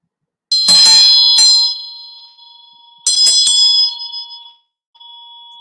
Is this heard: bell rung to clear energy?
yes